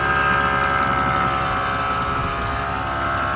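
A Tilta full-floor tandem race car trailer floor inflates from a charge, giving a steady, loud mechanical hum with a constant tone that holds evenly throughout, with no talking.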